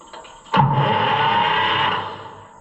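White 2-70 gas tractor engine being cranked over, a loud sustained grinding churn that starts abruptly after a brief quiet moment, holds steady for about a second and a half, then fades out without catching.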